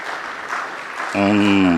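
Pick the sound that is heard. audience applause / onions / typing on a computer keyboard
audience applause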